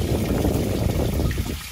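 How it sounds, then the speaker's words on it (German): Water drains from the grey water tank of a camper in a continuous rushing trickle. The splashing is steady and fairly loud throughout the short stretch, and no one speaks. "wie wir jetzt hier das Wasser ablassen."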